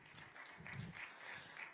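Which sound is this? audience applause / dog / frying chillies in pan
audience applause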